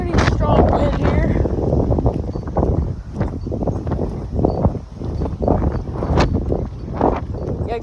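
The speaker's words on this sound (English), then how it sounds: "that was pretty strong wind here." Strong gusting wind during a tornado watch buffets the microphone in heavy, uneven roaring rushes, loud and close throughout, with a voice talking faintly underneath.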